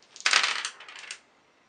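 Three dice tumble and rattle across a table during a Memoir '44 board game, a close, bright clatter of hard cubes lasting about a second, then settling into quiet.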